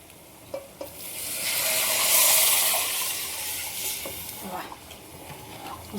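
A burst of loud sizzling as liquid hits hot oil, swelling then slowly fading into softer crackling, with a few utensil knocks.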